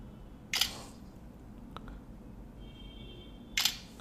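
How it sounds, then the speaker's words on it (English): A Lenovo Vibe X3 phone camera fires its shutter twice, two crisp clicks about three seconds apart over a quiet room. "Let's take a few snaps,"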